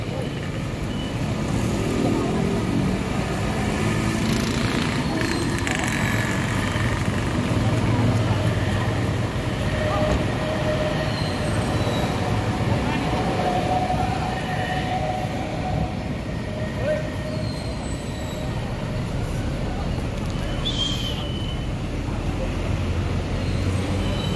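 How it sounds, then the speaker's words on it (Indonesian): A Sinar Jaya Avante coach, unit 80 DX, running as a replacement bus, rumbles past with a steady, loud, broad engine and road roar that fills the whole stretch, while someone talks nearby. "Ini bus pengganti 80 DX ini."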